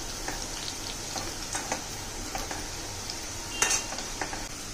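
Bitter gourd pieces deep-fry in oil with a faint, steady bubbling hiss, broken by a few light clinks and scrapes of a utensil against the pan and one sharper clatter near the end.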